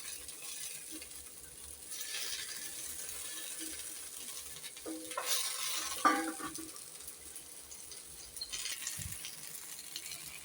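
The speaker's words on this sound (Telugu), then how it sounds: "ఇదే పాన్లోకి ఫస్ట్ నల్లేరు ఆకులు ఉన్నాయి కదా మీరు వేయించుకుందాం" Freshly washed nalleru leaves fry in a pan, a faint, soft hiss and crackle from the damp leaves with a couple of light utensil clinks near the middle.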